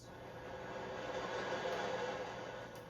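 The Glacier Express train runs through the bends and tunnels of a Swiss mountain railway, a steady enclosed rumble and rail roar with a faint high whine, continuous and even.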